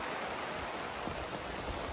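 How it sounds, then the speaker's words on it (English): Heavy rain pours down in a dense, continuous hiss of drops striking surfaces, steady and moderately close with no voices over it. "how bad the rain is"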